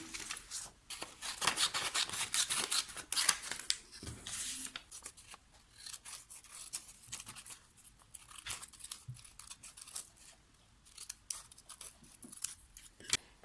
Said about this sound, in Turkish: Şimdi bu üç yıldızı da keseceğiz.